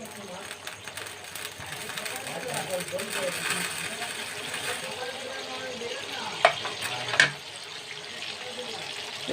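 Paneer pieces going into makhani gravy in a pan, with bubbling sizzle, stirring scrapes and two sharp clinks of a utensil against the pan, while a voice talks over it.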